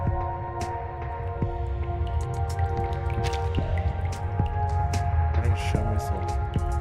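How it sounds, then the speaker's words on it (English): Water drips steadily from a ceiling near a window in an indoor scene of the Reverse 1999 video game, scattered irregular plinks over a constant low ambient hum. "Water keeps dripping down from the side of the ceiling near the window."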